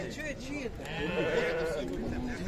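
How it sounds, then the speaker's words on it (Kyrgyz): Sheep bleat at a suburban livestock market, with wavering, overlapping calls close by and people talking throughout. "Чоң койлор достор мына."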